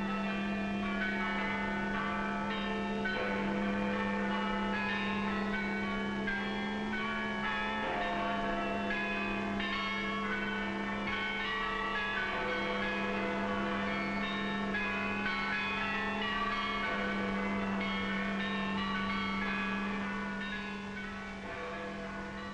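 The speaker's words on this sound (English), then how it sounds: "Now the bells rang out a song of thanksgiving," Church bells ring out in celebration of victory in Britain, a long continuous peal of overlapping strokes over a steady low hum, sustained for over twenty seconds with no speech.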